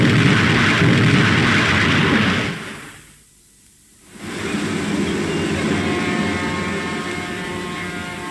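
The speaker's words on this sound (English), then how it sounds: "the undesired surface explosion is portrayed by means of gunfire" Gunfire standing in for a surface explosion in a wartime Royal Navy film: a heavy, roaring blast fills the clip, cuts out abruptly for about a second, then returns as a sustained rumble.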